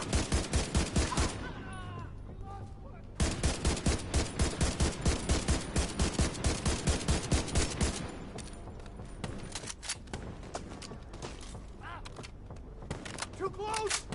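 Gunfire in The Division 2, rapid rhythmic automatic bursts, loud and close, with a short pause then a second long burst, followed by scattered shots as someone talks over the action.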